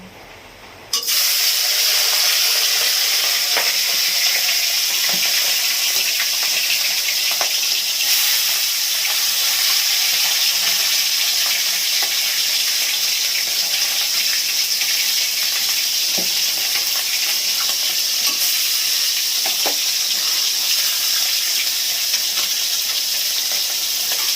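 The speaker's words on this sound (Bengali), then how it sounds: "মাছগুলো ভেজে নেবো, তেল দিলাম, গরম হয়ে গেছে। এবার আমি মাছগুলো দেবো।" Tangra fish frying in hot oil, a loud continuous sizzle and hiss close up, steady throughout with occasional sharper pops and crackles and no talking.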